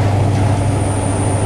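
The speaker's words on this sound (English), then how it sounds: "now we're having a little race with a cross country HST" A cross-country HST train runs close alongside a moving passenger train on a UK line, heard as a loud steady rumble and roar of rail noise from inside the carriage.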